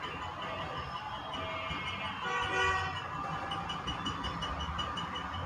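A distant car horn toots amid faint traffic noise, rising slightly in the middle before fading back into the background hum.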